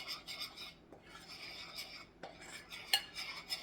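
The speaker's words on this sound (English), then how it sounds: "I'm going to use a spoon, and I'm going to simply just mix this together." A spoon stirs and scrapes through a vegan pudding mixture in a bowl, giving quiet, close, rhythmic rubbing strokes with an occasional light clink.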